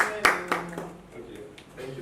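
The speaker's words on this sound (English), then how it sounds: "be clapping for them as well" A live audience claps for a presenter at a real estate marketing talk, a few sharp hand claps at first, then the applause thins out as a voice and room murmur carry on underneath.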